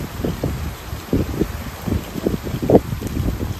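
Gusty wind sweeping over farm fields, with a constant broadband rush and low buffeting thumps close to the microphone.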